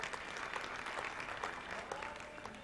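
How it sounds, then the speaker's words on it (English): Sustained applause from a crowd after a dance group performance, steady and dense throughout, with no voices rising above it. "a big round of applause for that Dance Group Academy"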